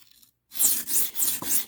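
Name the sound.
knife being sharpened on a $1 whetstone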